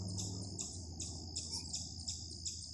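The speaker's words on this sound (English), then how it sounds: "I didn't know chipmunks made those chirping sounds." A chipmunk on the Appalachian Trail gives a quiet, steady series of high, sharp chirps, about two or three per second, against a faint outdoor background.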